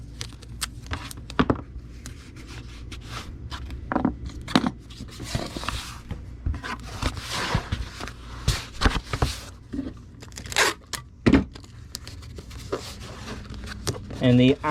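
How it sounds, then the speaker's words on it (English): Packing tape rips and squeaks in short bursts as it is pulled and pressed onto a Gemini mailer, close and intermittent, with rustling and handling noises between strips. "let's get this taped into place"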